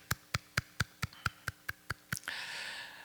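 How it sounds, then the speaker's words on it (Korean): Ten separate, evenly spaced claps from a church congregation blessing a family at a daily worship service. They ring out clearly and then give way to a brief wash of broader clapping and noise at the end. "우리 집사님 권사님 가정 뜨겁게 우리 박수로 축복합니다"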